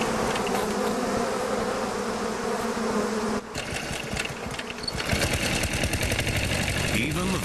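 A swarm of killer bees drones with a dense, continuous buzz in the southern United States while a narrator talks over it, the hum shifting in texture midway through.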